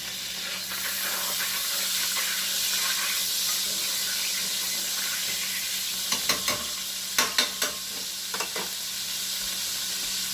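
Butter melting into hot oil in a pan fills the air with a steady broadband sizzle, joined near the end by a few short clinks and scrapes of a utensil, with no voices.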